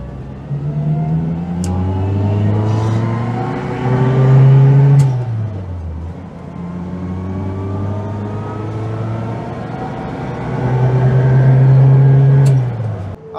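A Zastava 750 on a test drive, its small engine rising in pitch through each gear, then dropping sharply at two gear changes before pulling up again, loud and close inside the car.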